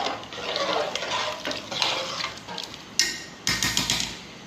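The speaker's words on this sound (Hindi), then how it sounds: "और अब हम करेंगे इसको मिक्स।" Rice being stirred and mixed into matar pulao in a pot, close scraping and clinking of a spoon against metal in uneven strokes with light sizzling underneath, several sharp knocks toward the end, no talking.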